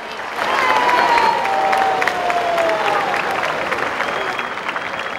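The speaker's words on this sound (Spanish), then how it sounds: "Este fuerte aplauso es para usted." Loud, sustained applause from a large crowd after a governor's speech in Guayaquil, steady for several seconds with some cheering mixed in and a faint tone running underneath.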